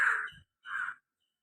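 A crow gives two loud, close caws in quick succession, each harsh and clear, with silence between and after them.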